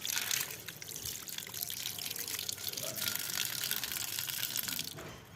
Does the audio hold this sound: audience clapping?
no